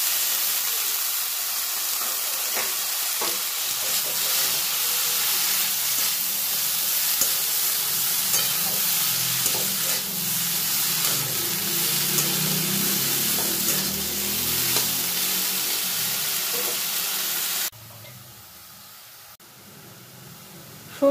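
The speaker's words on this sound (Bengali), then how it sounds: "সজনে ফুলটা দিয়ে এর মধ্যে নাড়াচাড়া করে নেব।" Drumstick flowers stirred into a frying prawn mixture, producing a loud, steady hiss and sizzle with occasional scrapes for most of the time before dropping abruptly to a quiet background near the end.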